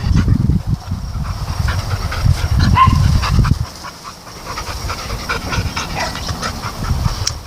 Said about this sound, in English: the dogs love to be in there and run back and forth